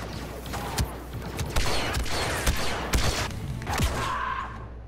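Game explosions and thuds from a grenade blast in Star Wars Battlefront, dense overlapping booms and bursts mixed with gunfire, loud and busy throughout with no clear single blast standing apart.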